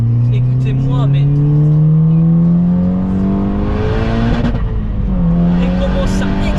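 A 370 hp Stage 2 Volkswagen Polo R WRC roars under hard acceleration, its engine pitch climbing steadily through the gears with loud exhaust noise, close up and with a person speaking over it.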